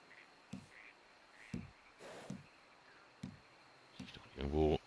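Frogs croak in Red Dead Redemption 2, short low croaks repeating at roughly one-second intervals in the background, with someone speaking briefly at the end.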